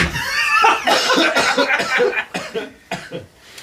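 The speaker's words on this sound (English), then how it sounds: "As I'm coughing my way into your microphone." A person coughs several times close to a microphone, rough bursty coughs with a few chuckle-like breaths mixed in, loud and near.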